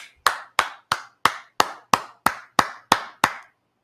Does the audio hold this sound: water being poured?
no